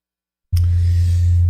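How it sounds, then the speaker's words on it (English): White noise switched on in a courtroom to mask conversation, cutting in abruptly from silence as a loud, steady hiss with a strong low hum beneath it. "Can I have the white noise on"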